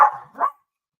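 Two short dog barks in quick succession, close and fairly loud, then silence.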